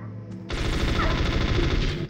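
A FAMAS rifle in the PS1 game Metal Gear Solid fires a sustained, rapid automatic burst that starts abruptly after a brief lull and stays loud and dense for about a second and a half.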